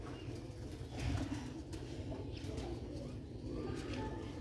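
Black-faced Sialkoti pigeons coo softly nearby in repeated low, throaty calls, with a little rustling around them and no talking.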